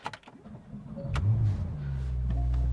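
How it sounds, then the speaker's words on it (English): A Porsche 911 Turbo S (991.2) engine cranks briefly, catches, and revs up before settling into a steady, deep idle rumble close by. "And it does have that classic Porsche sound from the engine."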